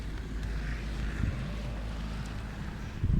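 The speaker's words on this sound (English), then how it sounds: "Currently very windy though." Strong wind blowing outdoors near woods ahead of a squall line, a steady low rumbling roar of gusts against the microphone, continuous and fairly quiet with a slight rise at the end.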